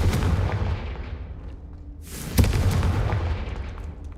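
An exploding spell cast in a Harry Potter video game, heard as a rumbling artillery-like burst that fades, then a sharp second boom with a ringing tail, loud and close.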